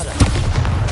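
Bombarda spell explosion in the Hogwarts Legacy video game, a single heavy, close boom with a deep low thump and short rumbling tail, loud throughout.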